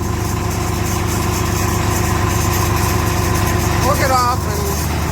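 A tractor engine idles steadily after starting, a constant low rumble with mechanical vibration throughout, loud and close, with a brief higher squeal or whine near the end.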